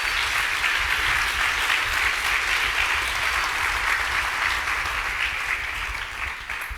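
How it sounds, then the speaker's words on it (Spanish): Church congregation clapping loudly during a sermon, a dense, continuous wash of applause that holds steady and eases off slightly near the end. "Aplauda fuerte la grandeza de nuestro Dios."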